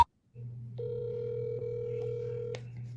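A telephone call placed to the DeSoto Police Department jail line, heard as a steady, clear line tone that holds for several seconds after a brief moment of silence, with no talking over it.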